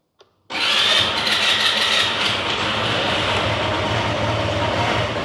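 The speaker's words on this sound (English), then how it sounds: "And if I try to start him up," A scooter engine cranks and catches after a brief click, then runs loud and rough for several seconds, close up, sounding unsteady as if close to stalling, with no talk.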